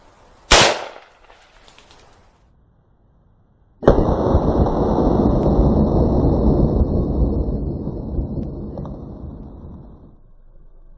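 A single loud, sharp rifle report from a 7.62x39 round firing 123-grain Winchester Hog Special ammunition, a close crack that decays quickly, followed after a short quiet gap by a long, noisy rushing roar that gradually fades.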